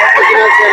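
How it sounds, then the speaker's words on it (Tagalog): A red rooster about four years old, offered at a fowl market in Carbon, Cebu, crows in a single close, loud, sustained call lasting under a second, with market chatter in the background. "Manok."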